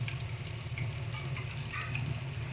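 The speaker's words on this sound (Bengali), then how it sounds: "পটলগুলো ভাজা হোক সুন্দরভাবে" Pointed gourd (potol) pieces frying in hot oil in a pan, giving a steady, dense sizzle that hisses evenly throughout without pause, close and fairly loud.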